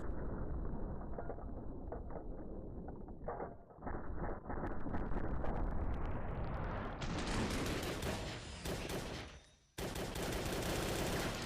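Rapid gunfire from the video game Drake crackles in dense, continuous bursts with a rising mechanical whine, briefly cutting out near the end before the barrage resumes loud and close.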